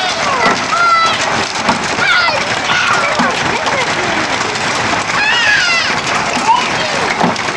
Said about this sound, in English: It says golf ball size hail.